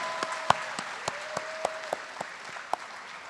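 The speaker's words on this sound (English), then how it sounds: "Let's have another round of applause, please." Audience applause at a national poetry slam grand slam, scattered sharp claps from a modest crowd, fairly faint and uneven, with a few louder individual claps standing out.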